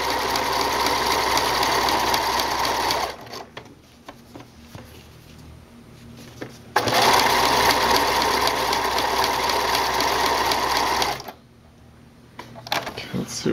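A sewing machine stitches a stretch stitch on a tank top, loud, steady, rapid mechanical whirring in two long bursts separated by a quieter pause, with brief sounds at the end.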